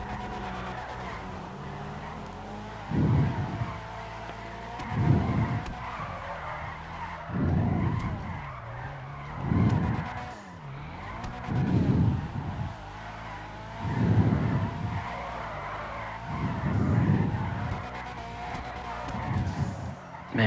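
A car drifting in the street-racing video game GTA Online, Tuners update: repeated loud tire squeals in a steady rhythm, about every two seconds, over a constant engine drone, no voice.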